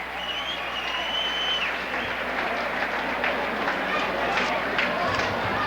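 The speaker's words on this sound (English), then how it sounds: "the cheerleaders get a fine hand from the crowd" A 1979 Morton Potters high school basketball crowd on Parents Night gives the cheerleaders a steady round of applause, a continuous wash of clapping with faint shouts, while a commentator talks over it.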